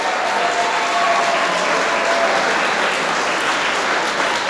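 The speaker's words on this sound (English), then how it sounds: "give her another round of applause" Enthusiastic audience applause at a school presentation at Lockhart K-8 for a girl who sang the anthem, a continuous, full-bodied wash of clapping throughout.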